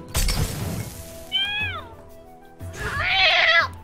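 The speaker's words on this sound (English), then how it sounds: "It's a cat." A cat in the South Park: The Stick of Truth video game meows twice, a short rising-falling mew followed by a louder, longer drawn-out yowl, interspersed with game impact sounds.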